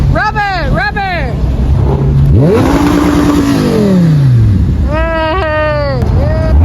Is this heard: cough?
no